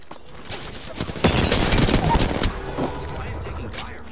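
Bursts of gunfire in the battle royale game Apex Legends, a rapid cluster of shots loudest in the middle, with continuous game ambience behind.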